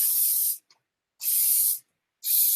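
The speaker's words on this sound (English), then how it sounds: "Give everything a spritz before you go to smooth it out" Three quick bursts of a spray bottle misting hair while it is brushed out and styled, each a short, loud hiss separated by brief pauses, with no voices.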